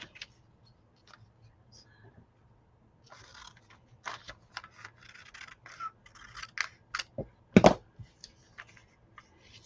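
Scissors snip through a piece of paper for a mixed media journal, a few crisp cuts clustering toward the end after quiet paper handling and rustling, close and fairly soft.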